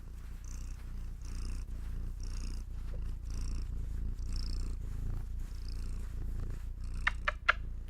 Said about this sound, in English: Did you bring some purrs for everyone?